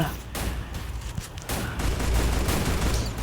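Gunfire in the shooter video game Free Fire, with dense bursts of rapid shots running through the whole stretch and growing heavier toward the end.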